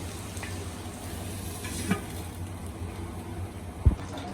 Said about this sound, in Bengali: এখন ঢেকে দিয়ে কিছুক্ষণ ভালোভাবে ভেজে নেব।